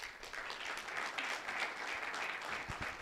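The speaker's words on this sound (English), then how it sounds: "let's give Amber a big round of applause" A breakfast crowd at a high school student-of-the-month event claps for an honored student, a dense, steady round of applause from many hands filling the room evenly from start to finish without talk.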